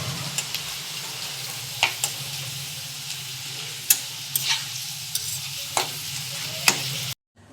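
Thin homemade potato chips sizzle in a pan of hot oil, a continuous bright hiss punctuated by repeated scraping taps of a spatula stirring, ending abruptly in silence.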